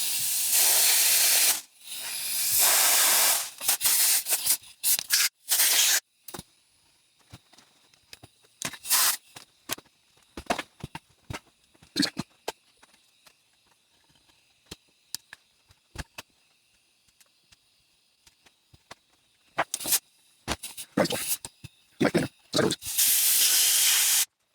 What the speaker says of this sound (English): And I've got my air compressor here.